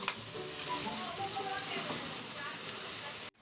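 Homemade desi ghee melts and is stirred in a pan with sugar, making a close, steady sizzle with scraping and spoon clinks that cuts off abruptly at the end.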